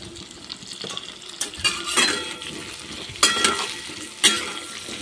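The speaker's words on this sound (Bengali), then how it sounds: "আলুর মধ্যে সামান্য একটু হলুদ দিয়ে ভেজে নেব।" Cut potatoes dusted with turmeric fry in a pan with a continuous sizzle, broken by several sharp scrapes and clanks of a spatula stirring against the metal, close up with no talking.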